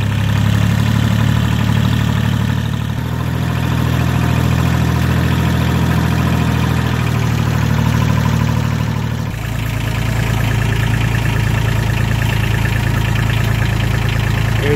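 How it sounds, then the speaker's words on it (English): A tractor engine runs steadily at idle on a rural property, a loud low rumble with a constant hum that shifts slightly partway through, close and continuous with no talk. "Let me get you guys on board the tractor."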